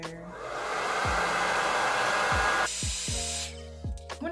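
A hair dryer blows steadily at close range for a few seconds, then shifts to a different setting before cutting off.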